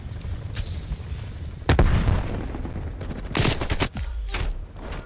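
AK47 gunfire in the video game Call of Duty Cold War: several loud close bursts of rapid automatic fire separated by short gaps, with no speech over them.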